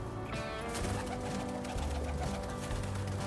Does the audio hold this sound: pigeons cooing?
yes